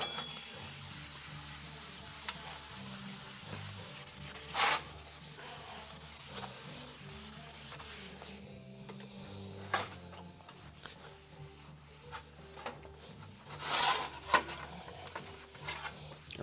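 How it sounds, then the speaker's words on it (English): An old Scotch-Brite pad scrubs back and forth over a painted 1932 Ford dash, a soft steady rubbing with a few sharper scraping bursts, close up and without talk. "This is just an old Scotch-Brite pad in there."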